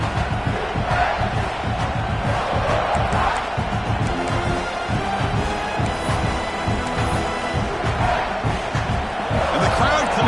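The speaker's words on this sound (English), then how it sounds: "And the crowd coming to life here, trying to help this defense down in the red zone." Stadium crowd roaring and cheering in the NCAA 26 college football video game, a dense continuous wash of noise under commentator talk throughout.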